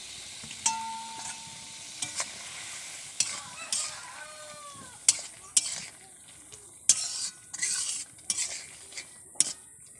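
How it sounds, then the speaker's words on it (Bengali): Fried puti fish tossed into a tomato spice mix sizzles softly in the pan, punctuated by repeated sharp metallic clanks and scrapes of a spoon stirring against the pot. "এরপরে এই মশলাতে পুঁটি মাছ ভাজাগুলো দিয়ে দিচ্ছি"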